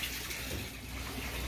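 Steady rushing and trickling of water as a submersible pond pump circulates it through a homemade five-gallon bucket filter, continuous and fairly loud with no pauses.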